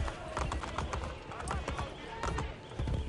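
Horse hooves clip-clopping in a quick trotting rhythm alongside rumbling game sounds in Assassin's Creed Brotherhood, with someone speaking over them.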